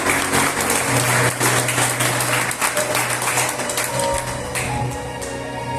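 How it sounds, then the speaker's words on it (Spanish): A church congregation during a Spanish-language sermon breaks into loud, sustained clapping praising the Lord, the applause dense and close with scattered taps, gradually thinning toward the end. "Dale una aplauso al Señor"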